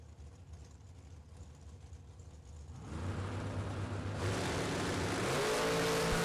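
A 2023 Diamond Dragster and a Camaro at a Super Pro drag race, engines rumbling at the line and then rising into a louder roar as they launch, heard from a distance.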